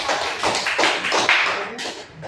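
Schoolteachers at a training session in an Indonesian primary school applaud a group, a dense burst of clapping from many hands that carries on steadily and then fades out.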